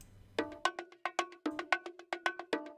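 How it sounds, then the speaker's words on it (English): A sliced amapiano drum pattern programmed in FL Studio Mobile, played as about a dozen sharp, bright, cowbell-like hits in a bouncy, syncopated rhythm. It is clear and moderately loud with no talking. "It's gonna add in an amazing drum pattern to our beat, which sounds like this."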